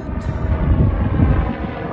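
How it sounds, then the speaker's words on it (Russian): Helicopter passing over a seaside hotel in Tel Aviv on a hot day, a steady low rumbling drone that holds loud and even throughout without breaks. "А, это вертолет."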